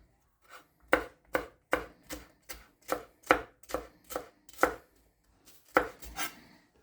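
Onions being sliced with a knife on a cutting board: about a dozen crisp, evenly spaced chops against the board, close and clear over near silence, with no voices.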